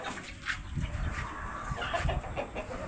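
Brahma chickens cluck steadily in a poultry yard, a close, continuous flock murmur of soft clucks and calls with no talking.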